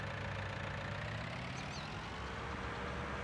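A steady, droning tractor engine from the video game Farming Simulator 19, pulling a load at low speed, runs continuously and evenly at a moderate level with no talking.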